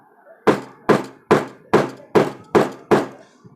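Seven even, thudding hammer blows mark points ahead of drilling, each a close, solid knock at a slow, regular pace with quiet gaps between.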